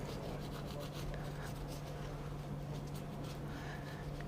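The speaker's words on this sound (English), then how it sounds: "Give it a wipe over." A rag rubbing over a part of a 1/8 scale HB Racing D8 World Spec competition buggy, a soft continuous wiping hiss close by over a low steady hum.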